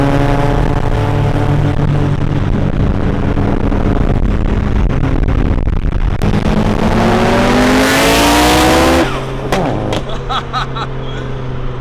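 A Mazda FD and a midnight purple Nissan R34 race around a drift compound, their engines roaring loud and close, revving and climbing in pitch without a break, with tires squealing near the end and no voices.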